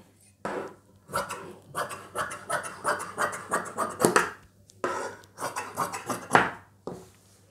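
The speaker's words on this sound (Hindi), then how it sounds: "तो दोस्तों सबसे पहले हम पॉकेट की कटिंग करते हैं ये देखिए" Scissors cut fabric for a trouser pocket on a palazzo pant, making a steady run of crisp, close snips in short rhythmic clusters, separated by a brief pause.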